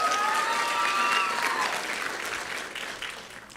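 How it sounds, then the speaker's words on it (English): An audience of parents at a children's pageant competition gives a round of warm, steady applause that fades gradually over a few seconds. "let's give Harley one more round of applause"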